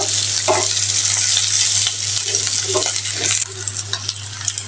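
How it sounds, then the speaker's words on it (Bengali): Potatoes fry in a pan, a steady loud sizzle running throughout with repeated scraping stirs of a spoon, close and without any talking. "আলুগুলো আমি ভালো করে ভাজি করে নিব"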